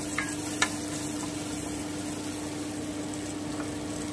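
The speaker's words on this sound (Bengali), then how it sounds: "গ্যাসে একটা কড়াই বসিয়ে দিলাম। আমি খুব সামান্য একটু বাটার দিচ্ছি" A small amount of butter sizzles quietly in a kadai on a gas stove, a soft, steady frying hiss with a couple of faint clicks near the start and no talking.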